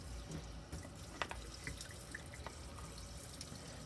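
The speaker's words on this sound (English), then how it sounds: "So you add a little bit of water." Water being poured in small amounts into a plaster stone powder mixture while casting models, giving a soft steady trickle with faint drips, fairly quiet and alone without talk.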